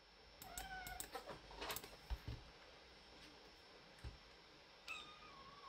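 A house cat meows several times beside a computer keyboard, faint and a little distant, with soft rising cries over a quiet room hum and a few light clicks; nobody speaks.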